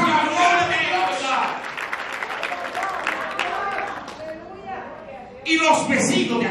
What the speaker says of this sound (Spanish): Denle un aplauso a la roca.